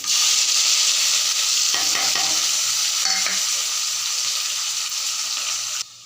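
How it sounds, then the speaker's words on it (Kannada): Peanuts sizzling and frying in hot oil in a pan, a constant bright crackling hiss close by with a few stirring scrapes partway through, then cutting off abruptly near the end. "ಕಡಲೆ ಬೀಜನ ಫಸ್ಟ್ ಹಾಕ್ಕೊಳ್ಳೋಣ ಒಂದು ಸ್ವಲ್ಪ ಫ್ರೈ ಆಗಬೇಕು"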